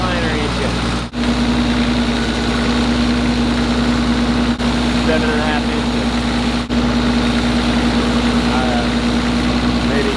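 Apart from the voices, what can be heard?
Cummins diesel engine idling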